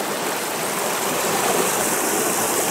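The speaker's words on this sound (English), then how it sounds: "at this point here they call it a creek" An alpine mountain creek near Thredbo in Australia rushes steadily, a loud, unbroken broadband roar of flowing water close at hand with no speech over it.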